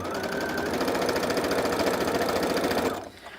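A sewing machine stitches steadily through a quilted zipper pouch, a close, continuous rapid whirring that runs for about three seconds before cutting off.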